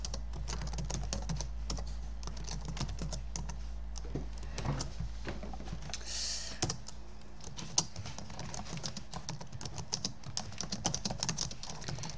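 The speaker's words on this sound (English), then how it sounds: "sorry, I'm just typing this." Someone types on a computer keyboard with a rapid, uneven stream of close clicks and taps over a low, steady background hum.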